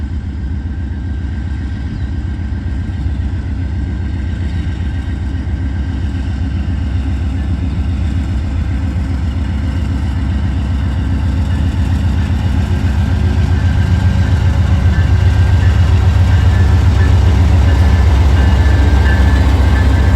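A train locomotive idles with a deep, steady diesel rumble and a faint high whine on top. It grows noticeably louder about two-thirds of the way through, and no one speaks.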